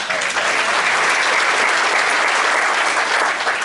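An audience at a county State of the County event applauds loudly and steadily throughout, a dense unbroken clapping that fills the room without pause.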